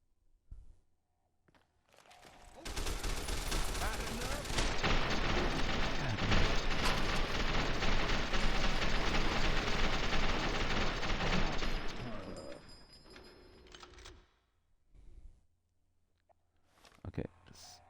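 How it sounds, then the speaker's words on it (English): Sustained gunfire in Fallout New Vegas, a dense, loud rattling burst lasting about ten seconds before cutting off, with faint sparse sounds before and after. "What are they shooting at?"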